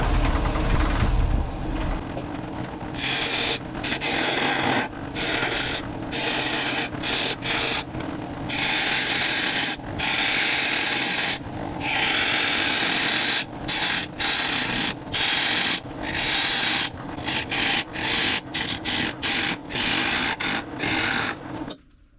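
A cracked old log spinning on a wood lathe while a tool shaves it down, giving a loud, continuous rasping scrape broken by short regular pauses as the cut is lifted and reapplied.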